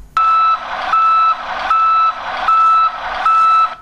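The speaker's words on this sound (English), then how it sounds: "you will also hear the beep sound" A loud electronic warning beeper in a Mahindra Jayo DI3200 light commercial vehicle sounds five evenly spaced, steady tones, each lasting under half a second with short gaps between, signalling DPF regeneration is needed.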